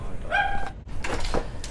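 A small dog barks and yips in short bursts early on, followed by brief whimpering sounds against a busy outdoor background.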